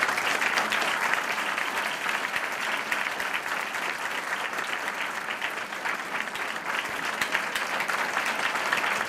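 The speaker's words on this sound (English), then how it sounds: "I ask you to give all of our recipients one more round of applause." A sustained round of audience applause for award recipients at a university achievement awards ceremony, dense and steady from start to finish, with no voices above it.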